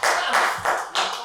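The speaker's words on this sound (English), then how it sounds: "Clap, people." Audience at an open mic clapping for a poet coming to the stage, a brief, loud burst of close, dense applause.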